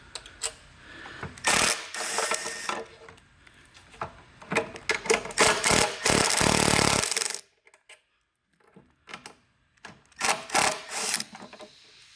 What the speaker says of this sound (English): use our 10mm socket and take the coils off of the top of the airbox